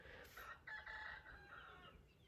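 A rooster crows once, a fairly faint, drawn-out call with a few stuttering notes, heard alone against quiet outdoor background.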